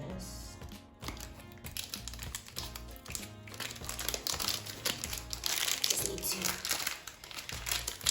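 Crinkly plastic packaging being handled and crushed while Chebe hair-growth products are unpacked, a steady run of close crackles and rustles with small taps, with music playing underneath.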